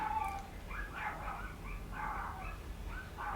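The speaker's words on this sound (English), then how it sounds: "Freaking dog." A dog barks and yips in short repeated bursts, moderately close, over a steady low background hum, with no one speaking.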